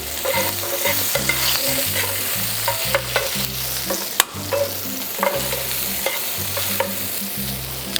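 Vegetables and mushrooms stir-fried in rendered goose liver fat, a steady sizzle broken by repeated scraping and clacks of a utensil against the pan, loud and close, with no talking.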